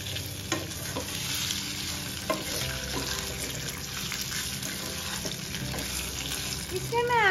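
Goli idli balls are stirred in a hot pan to coat them, with a steady sizzle and scraping spoon strokes close by, a hint of running water and background tones.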